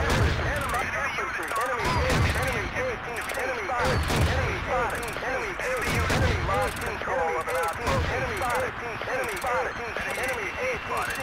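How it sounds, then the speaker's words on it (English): Dense rapid gunfire and bursts from Battlefield 2 multiplayer combat on the Gulf of Oman map, continuous and loud with overlapping shots throughout. "Let's fire them guns."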